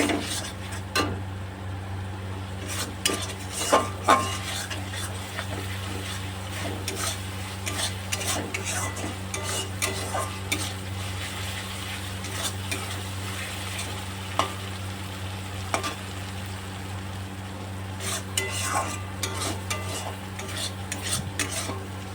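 Masala being stirred and fried in oil with cumin powder, for a fish-head recipe: continuous close sizzling with frequent scraping and clinking of the spoon against the pan over a low hum, no speech.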